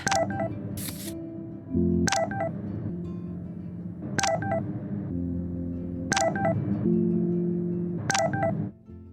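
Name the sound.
phone receiving repeated messages in video game Life is Strange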